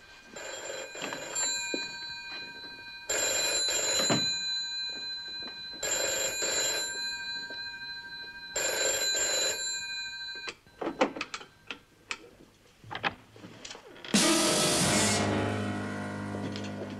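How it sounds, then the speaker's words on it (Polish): An old telephone bell rings in four long, even bursts with short pauses between them. Rustling and clattering follow, and a loud burst of noise ends the passage. The scene is from a Polish television crime drama. "Mamo, odbierz telefon."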